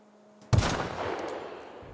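A sniper rifle fires once in the video game The Outer Worlds, a sharp, loud report that breaks a quiet scene and rolls out into a long, fading echo.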